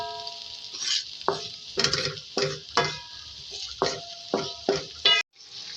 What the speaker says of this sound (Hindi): इस तरीके से मिक्स करेंगे और इसको थोड़ा कुक करेंगे।